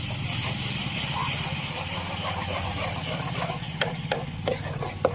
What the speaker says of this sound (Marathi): या टमाट्यातला कच्चेपणा सर्व निघेपर्यंत परतून घेऊ मस्त